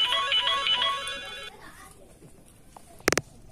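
A telephone rings with a repeated electronic ringtone, fairly loud at first and then cutting off, followed by quiet room sound and a brief sharp knock or clatter near the end.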